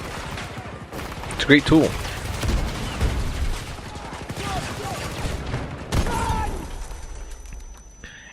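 Shotgun blasts and other gunfire crack out in Battlefield 2042 gameplay, a few sharp bursts amid a busy battle mix, with someone talking over it.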